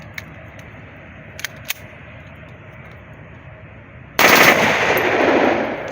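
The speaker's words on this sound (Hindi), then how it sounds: "अब करते हैं दूसरे मैगजीन से जो है ना ब्रस्ट फायर" A China TT 30 bore pistol fires a sudden loud rapid burst that rings on for well over a second, after a few faint sharp clicks and a quiet stretch.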